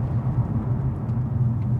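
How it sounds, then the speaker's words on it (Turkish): Volkswagen Golf GTI engine droning steadily from inside the car, a continuous low rumble with no talk over it. "Yani gerçekten arabanın sesi beni konuşturtmadı"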